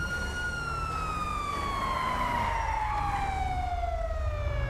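A police car siren in GTA 5 wails continuously with a slowly falling tone, loud and close, over a low engine rumble.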